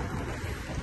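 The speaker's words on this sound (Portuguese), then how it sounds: "eu tô fugindo da chuva" Steady rain falls outdoors during a long-distance bike journey from Alaska to Tierra del Fuego, a dense, even hiss with low rumbling wind, continuous and fairly loud throughout, with no voices.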